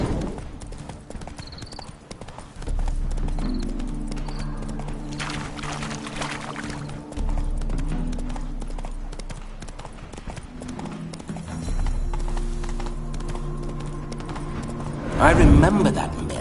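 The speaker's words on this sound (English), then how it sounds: "Spooking my horse." Steady clip-clop of horse hooves in The Witcher 3: Wild Hunt – Hearts of Stone, with a musical backdrop and voices talking over the rhythm; a louder burst near the end.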